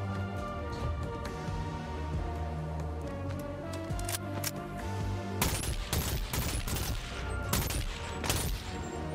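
Gunfire in the VR game Bonelab, a dense burst of rapid shots in the second half following quieter clatter and handling noises.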